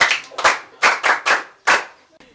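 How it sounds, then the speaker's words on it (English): A small group claps during a live news broadcast, a few short bursts of hand claps separated by brief pauses, fairly close and loud with no talk over them. "Clap for him."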